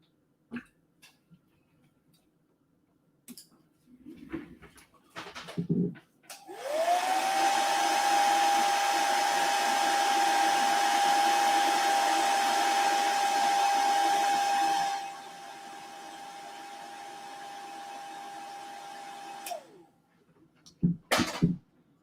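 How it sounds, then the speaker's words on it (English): A hair dryer blows on a painted tabletop miniature, switching on with a steady loud whine for about eight seconds, then dropping to a lower setting before cutting off, with small handling clicks before and after. "Just did the old hairdryer again there, friends."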